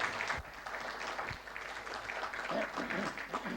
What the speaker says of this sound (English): can you have a round of applause for our panelists?